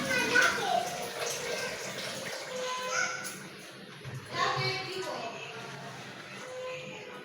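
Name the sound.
rinsing rice and lentils in water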